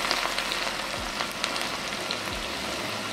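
About 100 grams of cut garlic fry with turmeric in hot oil, giving a steady, dense sizzle with occasional soft stirring knocks throughout.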